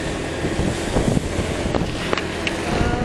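Steady wind rushing across the microphone, a broad buffeting roar with a few brief gusty thumps, no voices.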